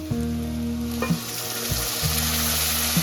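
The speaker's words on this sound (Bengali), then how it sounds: "পেঁয়াজটা লাল করে ভাজা হয়ে গেছে, এইবারে মশলাটা দিয়ে দেব।" Onions fried golden with ginger, garlic, cinnamon and cardamom sizzle loudly and close in a pan for a prawn malai curry, a steady crackling hiss punctuated by a few stirring scrapes, with no talking.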